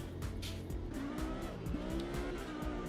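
Race cars in Automobilista 2, with engines droning and tires squealing near the pit wall, as sustained loud engine noise with short rising whines and skids running throughout.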